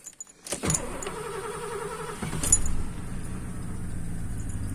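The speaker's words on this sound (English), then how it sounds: "there is an exhaust leak, so it sounds angry" A Mercury Marquis wagon engine idles steadily up close with a rough, throaty exhaust rumble from an exhaust leak and a faint high whine, a brief clunk near the middle.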